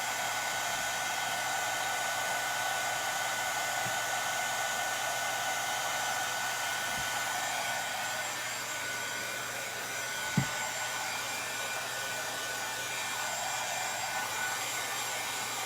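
A hair dryer blows steadily on a wooden DIY pedestal to dry fresh paint, a constant broadband whir running unbroken through the whole stretch with a few faint light knocks and no talking.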